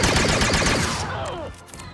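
Star Wars Outlaws blasters firing at stormtroopers in a rapid, dense fusillade of overlapping shots, loud and continuous, easing slightly toward the end.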